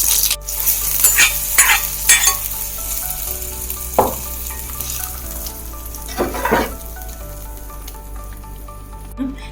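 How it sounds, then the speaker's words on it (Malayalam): Three dried red chilies with curry leaves sizzle in hot oil for tempering a rambutan buttermilk curry, a steady crackling fry with a few sharper bursts and stirring scrapes, no talk. "മൂന്ന് വറ്റൽമുളക് ഇട്ടിട്ടുണ്ട് ഇത് നമുക്ക് കറിയിലേക്ക് ചേർക്കാം"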